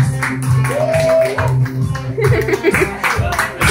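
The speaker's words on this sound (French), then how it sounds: "on va vous applaudir, s'il vous plaît" Audience clapping after a karaoke performance of a song, mixed with voices and lingering music, with steady claps running the whole time at close range.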